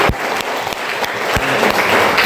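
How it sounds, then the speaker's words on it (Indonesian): A class of students clapping their hands together in a classroom, a dense, steady patter of many hands with a few sharper claps standing out, lasting throughout. "tepuk tangan"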